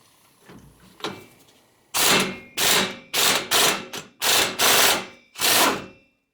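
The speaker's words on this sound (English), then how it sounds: "this is just a 24mm nut, and there's a straight shot, so we can hit this with the impact gun." On a Subaru, an impact gun hammers at a 24mm alternator pulley nut in six loud, close bursts separated by short pauses, after a couple of quieter clicks and knocks.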